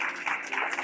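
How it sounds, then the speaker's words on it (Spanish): A brief wash of audience applause, steady dense clapping from a crowd gathered at a talk, lasting under a second at moderate level. "No necesitan aplaudir, por favor."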